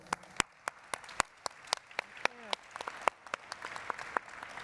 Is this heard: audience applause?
yes